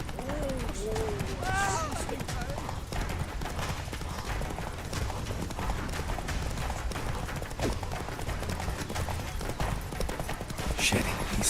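Roach the horse galloping in The Witcher 3, a fast steady clip-clop of hooves running throughout, with a voice and a brief whinny-like cry near the start.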